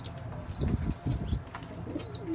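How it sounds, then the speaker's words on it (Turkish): Young tumbler pigeons are flown and burst into a short flurry of wing flapping close by, a few quick flutters with faint chirps in a quiet outdoor setting. "kuşları uçurduk, yemledik."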